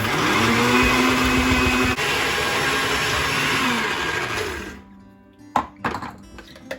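A blender roars steadily while pureeing raspberries and apples for fruit leather at a backcountry camp, then cuts off, followed by a few hollow thunks and knocks of the jar.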